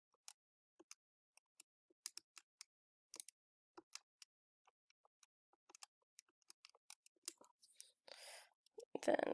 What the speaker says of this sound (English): I can type this into my calculator.